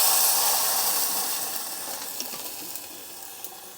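Tomato puree sizzles in a hot pan for pizza sauce, a bright steady hiss that slowly fades with a few small pops, close up.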